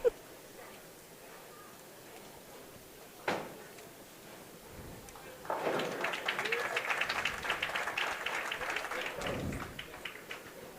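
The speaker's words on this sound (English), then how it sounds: "you can hear a lot of hand claps because, again, both squads for Crystal and Kayla are in the building" Scattered hand claps from supporting squads fill a bowling alley during women's amateur stepladder finals at the USA bowling trials, a dense patter of clapping swelling midway and continuing with crowd noise, after a couple of isolated thumps and some background talk.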